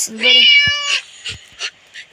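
A cat meows in the Scary Teacher video game: a loud, drawn-out meow up front, followed by a few short, quieter sounds that may be brief talk.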